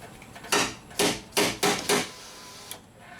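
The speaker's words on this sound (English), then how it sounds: "I may reach in there and tap right on the motor itself." Five sharp knocks in quick, slightly uneven succession, then a faint sixth, as someone taps directly on the rear window regulator motor inside the door of a 2009 Honda Civic.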